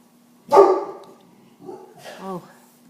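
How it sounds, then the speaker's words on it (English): Dogs bark close by, one sharp bark followed by a softer, whining yip a second later, against an otherwise quiet room. "dogs are barking like crazy this morning"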